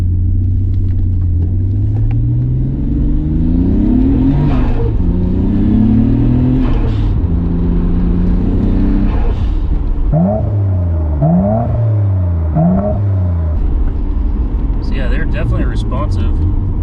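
A Nissan R32 Skyline GTR with new twin turbos pulls hard through first and second gear, its engine note rising loud and close, dropping at the shift, then climbing again, ending with a few higher whirring chirps.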